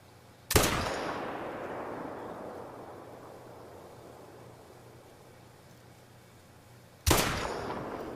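Two loud single rifle shots from an AR15 in the hunting game The Hunter: Call of the Wild, spaced about six seconds apart, each with a sharp crack followed by a long rolling echo that fades slowly.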